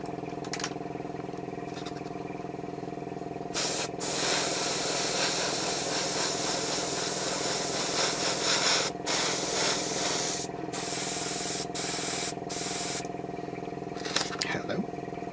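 An airbrush hisses in long, steady bursts of paint onto a Bandai 1/12 scale Boba Fett model, broken by brief gaps, with a slightly spitty flow, over a constant background hum.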